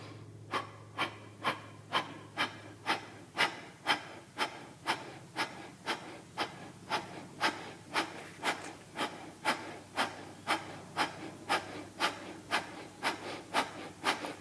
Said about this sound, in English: And now starting breath of fire.